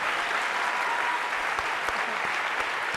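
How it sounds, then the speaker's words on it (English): An audience at a mainstage session of a conference gives sustained applause, dense steady clapping throughout with no breaks. "a very big round of applause"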